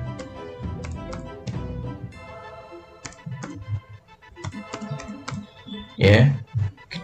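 Bursts of quick keyboard clicks as a search query is typed on a computer, close and fairly quiet, with pauses between runs and a louder clatter near the end.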